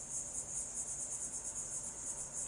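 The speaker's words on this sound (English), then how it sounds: "Cicadas. Sounds like where I grew up." Cicadas chirping in a steady, high, pulsing buzz that holds without pause throughout, faint and distant over a soft background hiss.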